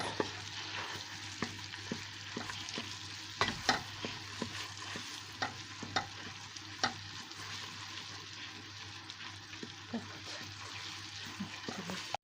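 Tomato paste stirred in melted fat in a pan, a soft steady sizzle with repeated scraping and clicking of a spoon against the pan throughout.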